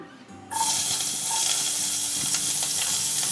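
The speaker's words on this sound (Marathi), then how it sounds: "आता आपला तेल तापला आता ह्याच्यावर मी घालतले कडीपत्तो आणि बारको कांदो" Curry leaves and chopped onion hit hot oil in a pan and burst into a loud, steady sizzle that starts suddenly and keeps crackling close by.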